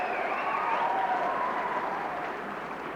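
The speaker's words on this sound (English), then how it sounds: "A big round of applause for South Hunsley." Studio audience applauding the South Hunsley team on a game show: continuous clapping and cheering with whistles, loud at first and gradually tapering off.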